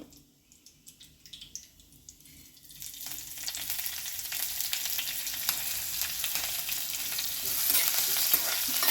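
Green chillies hiss and sizzle in a hot pan, starting quiet and rising to a steady, loud frying crackle with occasional stirring.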